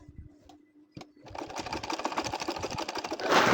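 A domestic sewing machine runs stitches through a hand-drawn nakshi kantha quilt, starting after a couple of faint clicks and then building into a steady, rapid mechanical chatter that grows louder toward the end.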